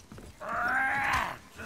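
A single drawn-out horse cry in the video game God of War, like a strained whinny or bray, rises and falls over about a second, fairly close.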